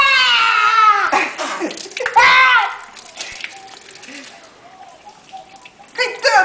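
Running water from a shower splashes and patters in a bathroom while a child bathes, mixed with a child's loud, wavering singing or wailing and other voices nearby.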